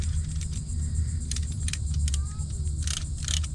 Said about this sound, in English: they have this nice little adjustable ratchet